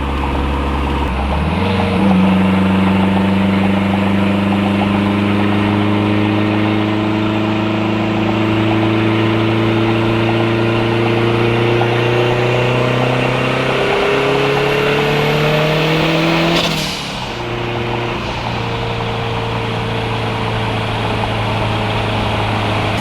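A boosted Toyota pickup truck engine heard from inside the cab drones steadily, then climbs in pitch as it accelerates through the revs, with a sharp shift near the end before settling back to a lower hum.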